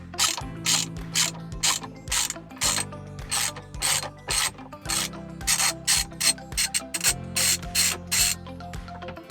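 Rapid ratchet clicking in repeated bursts as a T55 torx bit in a ratchet backs out the large centre screw of an Audi R8 steering wheel, loud and close with short pauses between strokes and no talking.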